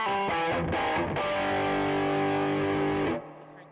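Heavily distorted electric guitar on humbucker pickups with the gain cranked rings out in thick, saturated metal-style chords with a few picked attacks, then cuts off abruptly near the end, leaving faint noise.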